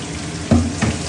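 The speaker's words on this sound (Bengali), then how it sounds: "রান্নার প্রক্রিয়া চলছে। পেঁয়াজ চলে যাচ্ছে" Onions fry in hot oil in a pan with a steady, close sizzle, broken by a couple of stirring scrapes and clanks of a utensil.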